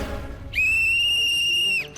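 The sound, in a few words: whistle blown for half time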